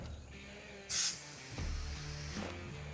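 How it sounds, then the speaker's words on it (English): A can of Liquid Wrench lubricating oil sprays in one short, sharp hissing burst near a truck, with quiet background sounds before and after. "I got some uh, liquid wrench lubricating oil"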